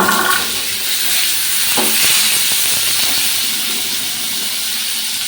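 Kohlrabi pieces are tipped into hot oil tempered with nigella seeds, setting off a loud, steady hissing sizzle that rushes up and then settles into a sustained, close fry.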